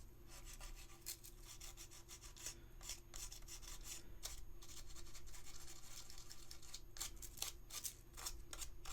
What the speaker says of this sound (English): Gonna sand it down a little bit, smooth it out with the rest of the piece so that it blends perfectly